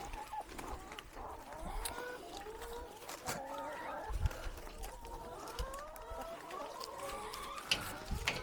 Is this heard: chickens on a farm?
yes